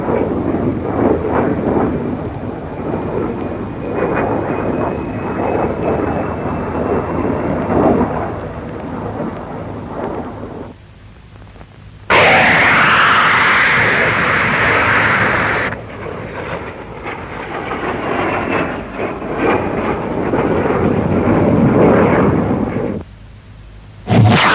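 A Hawker Hunter jet in a high-speed climb at the Farnborough air show makes a loud, continuous roar with a rumbling, thunder-like quality. The roar swells and shifts abruptly partway through, with short dropouts, as on an old archival recording.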